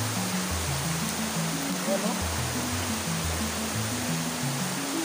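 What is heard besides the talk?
Kandungos waterfall flowing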